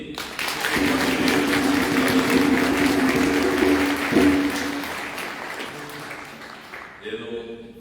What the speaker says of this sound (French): Et on va les applaudir.